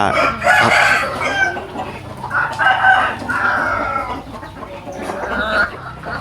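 Several fighting chickens clucking close by, with a gamecock rooster's crow rising over the flock's busy chatter.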